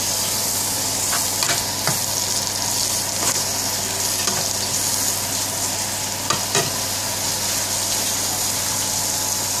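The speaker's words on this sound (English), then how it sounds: "Now we're gonna tip the hearts in now. So she's tipping the hearts in." Chicken hearts frying with spices for a Bengali-style Indian bhaji, a steady loud sizzle with scattered scraping clicks as they are stirred in the pan, no voices.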